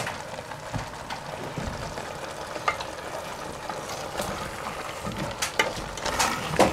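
Potatoes frying in a pan while being stirred, a steady close sizzle with scattered scraping and clattering from the stirring, and no voices.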